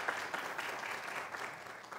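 A crowd at an oratorical contest claps steadily after a speech, a brief burst of many hands with uneven, fluttering intensity and no voices over it.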